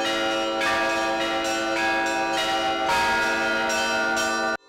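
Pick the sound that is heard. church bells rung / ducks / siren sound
church bells rung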